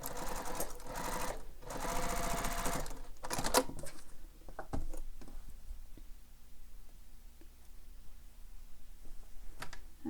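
A sewing machine runs long basting stitches through layered bag panels in two loud bursts, then falls quiet with faint ticks and handling sounds before a brief final whir.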